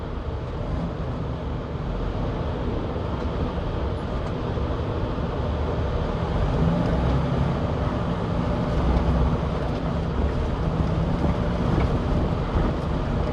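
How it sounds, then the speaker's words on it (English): Steady wind roars and buffets the microphone continuously, a dense low rumble with no voices. "And it's windy too, which makes it even worse."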